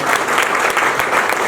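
An audience at an entrepreneurship gathering bursts into loud, continuous clapping that fills the whole brief moment with a dense, even roar of applause.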